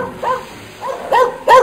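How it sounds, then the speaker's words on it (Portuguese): Small dog giving a few short yips and barks in quick succession, close and clear, with no one talking. "quando vai entrar o cachorrinho, entra alto a voz"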